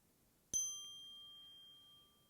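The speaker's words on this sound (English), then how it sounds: "The sound of the bell begins the meditation" A single meditation bell is struck once, ringing clear and bright, its pure tone lingering and slowly fading in a quiet room.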